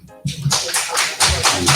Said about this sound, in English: as everyone claps